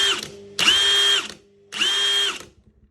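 Ryobi high torque impact wrench running in two bursts of whining, rattling motor noise, each about half a second to a second long with a pause between, loud and close.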